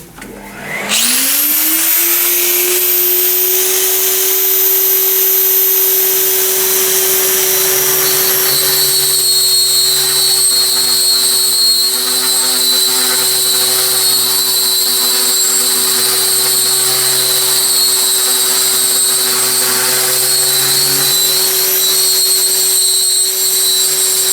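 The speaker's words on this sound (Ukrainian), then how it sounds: "Раритетний пилосос." An old vacuum cleaner, used as dust extraction while drilling porcelain tile, spins up with a rising whine, then runs loud and steady with a high-pitched howl and a rough airy roar.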